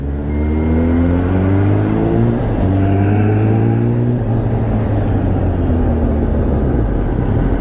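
Kawasaki Ninja H2 motorcycle crawling through heavy traffic, its engine droning steadily with gliding pitch changes up close, loud and continuous amid surrounding road noise.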